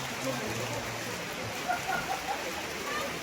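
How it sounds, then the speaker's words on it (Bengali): Rain starting over a swimming pool area on a cloudy monsoon day in North Bengal, a steady broadband wash of drops and water noise with a person speaking over it. "শুরু হয়ে গেছে বৃষ্টি"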